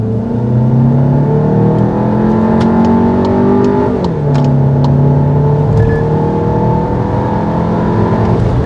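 Volkswagen Tiguan Allspace seven-seat gasoline SUV accelerating hard, engine note climbing through a gear, dipping at a shift and rising again, loud and steady from inside the cabin with no talking.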